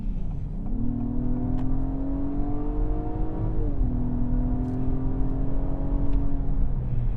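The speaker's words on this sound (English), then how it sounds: "Definitely a much better throttle response when you are trying to merge with traffic when you are in sport mode" A 2022 Acura MDX in sport mode accelerates hard from inside the cabin, its engine note rising steadily, dipping briefly at a shift, then climbing again in a loud, sustained drone.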